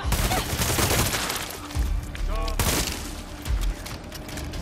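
Rapid gunfire bursts ring out in the video game Far Cry 6, loud and dense, with a player's voice briefly heard over the shooting.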